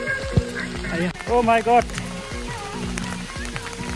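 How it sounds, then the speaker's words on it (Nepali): Hail and rain pattering on a plastic sheet worn overhead during a trek, a dense scattered drumming throughout, with a person exclaiming and talking over it close by. "पानी पर्यो असिना झऱ्यो"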